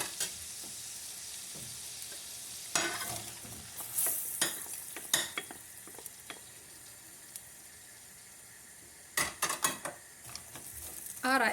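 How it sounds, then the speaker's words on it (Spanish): Chopped onion sautéing in leftover shrimp sauce: a soft continuous sizzle with repeated sharp scrapes and clacks of a utensil stirring the pan, fairly close, with no talk. "he puesto la cebolla cortada y ahora la voy a saltear bien"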